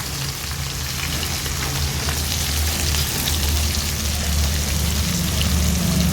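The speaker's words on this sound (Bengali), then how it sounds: "মশলাটাকে কিছুক্ষণ কষিয়ে নেব" Spices and fish-head paste fry in a pan for a Bengali fish-head and bottle-gourd curry, giving a steady, close, crackling sizzle that hisses evenly without a break under a low background hum.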